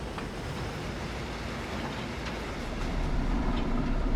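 A train rolls through the snow in the Frost Rail game trailer, a steady low rumble and rattle that grows slightly louder toward the end, with no voices over it.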